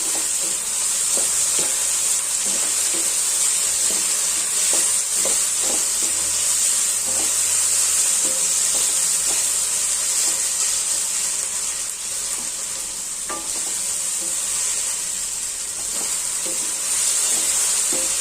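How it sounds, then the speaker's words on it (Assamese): Chopped carrots and potatoes fry steadily in oil over a low flame while preparing poha, a continuous close sizzle broken by occasional clicks and scrapes of a stirring spoon, with no talk. "গাজৰ আৰু আলুখিনি সিজালৈকে এইখিনি ভাজি ল'ম"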